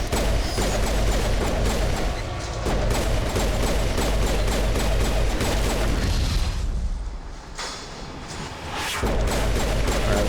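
Combat in the video game Mass Effect: a dense barrage of gunfire and explosions with mechanical clatter, loud and nearly continuous, briefly thinning midway before the din resumes.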